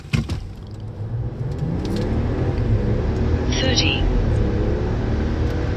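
A RAM 1500 Hurricane pickup truck with an 8-speed transmission accelerates hard from a standstill, its engine roaring steadily and close with a rising, sustained drone as a voice briefly calls out over it.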